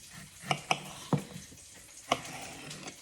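A knife cuts a vegetable along its green stem behind a bowl, making a few sharp, quiet taps on a board at irregular intervals over a soft background hiss.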